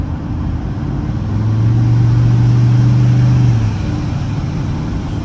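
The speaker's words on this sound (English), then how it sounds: "I thought it was going to be a lot more like spoolie noise, but no, it's almost quieter than the single turbo was" A twin-turbo car engine runs with a loud, steady low drone that swells briefly in the middle of the revving, then settles, with no distinct whistle standing out.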